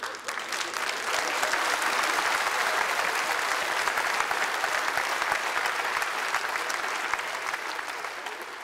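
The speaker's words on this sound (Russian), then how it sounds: "Аплодируем дальше!" Sustained, loud applause from a comedy show's theatre audience, steady dense clapping filling the whole stretch without speech.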